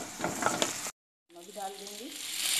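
Chopped potatoes sizzling and frying in a pan for aloo chaat, a steady hiss that cuts out briefly and then resumes with a stirring scrape.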